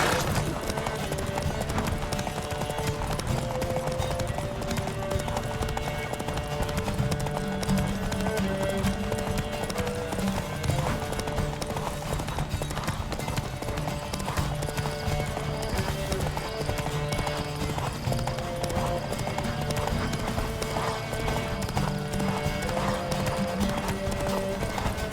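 Horses gallop in a race in The Witcher 3, their hooves clip-clopping in a steady, continuous rhythm that stays loud throughout, layered with other game sounds.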